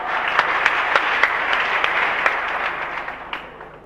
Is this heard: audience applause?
yes